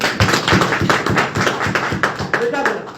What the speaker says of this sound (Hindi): ताली बहुत जोरदार